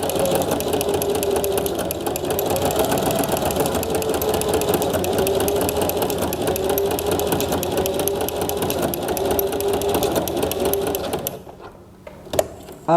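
A sewing machine stitching fabric with a ruffler foot, a fast continuous mechanical whir and clatter running steadily for most of the time before stopping abruptly near the end, close and loud.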